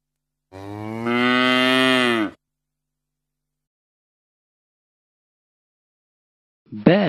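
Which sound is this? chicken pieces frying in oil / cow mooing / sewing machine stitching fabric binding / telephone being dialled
cow mooing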